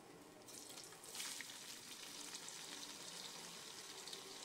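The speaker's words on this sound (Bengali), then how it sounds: "এবার আমি বেরেস্তা ভাজবো।" Chopped onions fry in white oil in a wok for biryani beresta, giving a steady bright sizzling hiss that swells just after the start and then holds evenly, with no voices.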